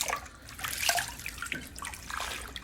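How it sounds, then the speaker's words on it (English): Collard greens being washed in a bowl of water, a steady splashing and sloshing of water with running-tap character, close and moderately loud, no voices. "Make sure you wash your greens several times. I like to wash them in different bowls"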